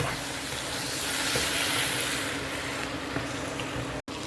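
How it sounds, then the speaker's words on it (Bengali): Rui fish head and bottle gourd with coriander leaves frying in a pan, a steady soft sizzle and bubbling with faint stirring throughout, no talking. "একটু ভাজা ভাজা হবে।"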